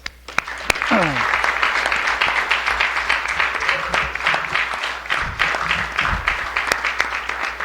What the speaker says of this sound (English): We want to give you a big round of applause.